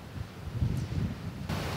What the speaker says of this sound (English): it's still extremely windy